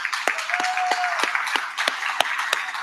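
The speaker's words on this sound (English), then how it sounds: "So we can give them a little round of applause." Scattered applause for Amazon.com as premier sponsor at the Community of Hope event, a thin crowd clapping with several sharp, distinct claps standing out at a fairly even pace.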